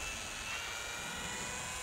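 A small Eachine Mini P-47D Bubbletop RC warbird, a foam model plane, flies overhead, its electric motor a steady, thin high-pitched whine that stays fairly faint and even throughout.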